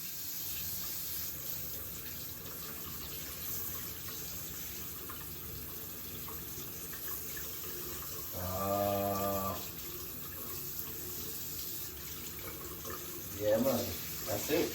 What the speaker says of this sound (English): let's test the water and see if we got some hot water